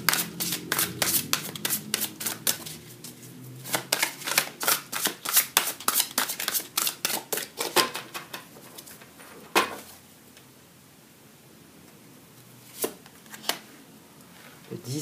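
Tarot cards riffled and shuffled by hand in a rapid run of crisp flicks and slaps, then slower single cards drawn and laid down as the pace eases, close and clear with no talk.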